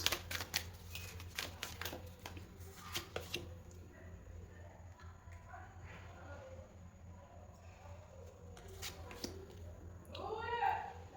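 Tarot cards being shuffled and cleared, with a quick burst of crisp riffling flicks early on, softer scattered card taps and slides after, and faint rustles near the end.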